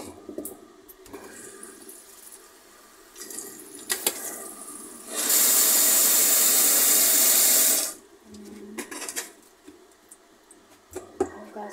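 Water runs hard from a kitchen tap onto beef being washed, a loud steady rush lasting a few seconds between quieter handling clatters and small clinks.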